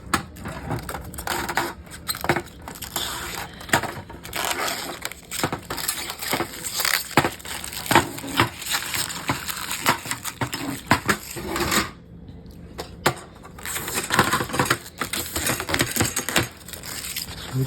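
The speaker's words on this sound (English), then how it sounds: "We're just taking off plastic on all of them." Protective plastic film being peeled off IKEA Akerbar mini greenhouse panels, a busy run of crinkling, crackling and clattering handling noises with brief pauses, close up and fairly steady throughout.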